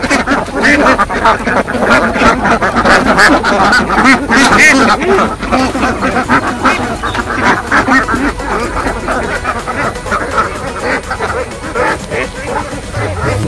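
A flock of ducks on a farm quacking continuously and loudly nearby, many calls overlapping, with some human voices mixed into the commotion.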